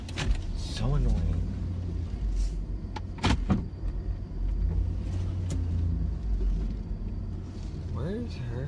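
A car makes a low, persistent rumbling and whirring while parking, with intermittent clicks and mechanical noises throughout.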